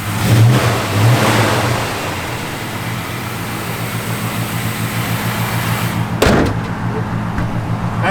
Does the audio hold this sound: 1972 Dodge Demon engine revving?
yes